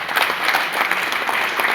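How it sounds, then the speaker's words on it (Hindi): Audience members at a seminar break into dense, continuous applause, many hands clapping together at moderate loudness for the whole stretch. "एक बार ताली बजा दीजिए जिनको याद है"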